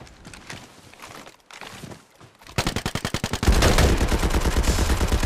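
AK rifle fire in a shooter video game: rapid full-auto bursts, loud and close, building from shorter volleys into a sustained dense stream of shots.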